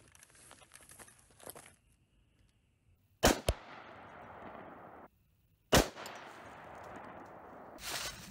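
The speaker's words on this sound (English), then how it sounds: "let's see how the Kalashnikov does." Kalashnikov AK rifle rounds fired at level 4 body armor, with three sharp, loud gunshot cracks spaced a couple of seconds apart, each followed by a ringing, decaying tail outdoors.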